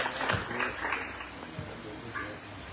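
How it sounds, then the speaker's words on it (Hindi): Applause welcoming a speaker at a Hindi poetry recitation competition held by the Rashtriya Bhasha Prachar Samiti, a fairly faint, uneven patter of clapping lasting a few seconds. "तो जोरदार तालियों के साथ स्वागत करें प्रोफेसर भारत भूषण शर्मा जी।"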